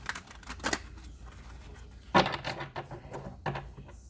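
A deck of tarot cards is shuffled in a few soft bursts of riffling and tapping, with quiet pauses between them, close by.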